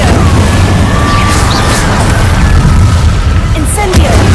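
Incendio fire spell blasts from the Hogwarts Legacy video game make a loud, dense roar of booming fiery bursts that continues through the whole stretch without letting up.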